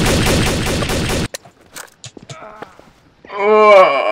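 Rapid automatic gunfire bursts loudly in Trouble in Terrorist Town for about a second, then cuts to scattered faint game noises and a brief tonal voice-like sound at the end.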